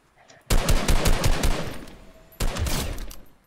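Fortnite gunfire: a rapid, loud burst of automatic shots lasting over a second, a brief pause, then a second shorter burst, all close and punchy.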